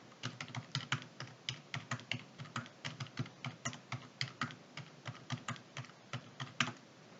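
Rapid keystrokes on a computer keyboard while entering data into a spreadsheet, a steady close-up clatter of separate taps at an even pace, with no voices.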